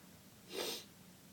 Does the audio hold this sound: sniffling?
yes